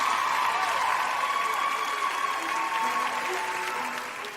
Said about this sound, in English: Keep the applause going, ladies and gentlemen.